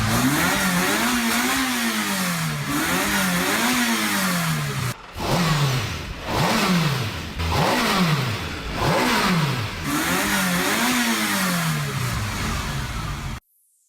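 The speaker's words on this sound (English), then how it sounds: "here's a Ferrari 308, and let's play it back to back with the M3 GTR Street version" A Ferrari 308 and a BMW M3 GTR Street engine rev hard, one after the other, with repeated loud swelling and falling sweeps close up, the first a steady run of revs and the second a string of sharper blips.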